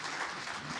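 An audience bursts into steady applause during a televised film interview with director Abhishek Kapoor, a brief wash of clapping hands filling the room with no voices over it.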